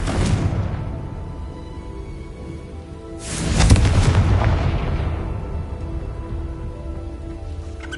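In Hogwarts Legacy on PS5, a Confringo blasting spell goes off as a loud, close fiery explosion with a sharp burst and rumbling tail, following an earlier boom, over a low game ambience.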